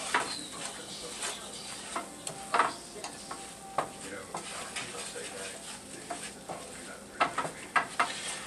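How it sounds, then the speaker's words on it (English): A utensil scrapes and taps against a pan while a blonde roux is stirred over the heat, irregular clinks over a soft, low sizzle, fairly quiet. "start stirring it. We don't want this dark. We just want essentially a blonde roux"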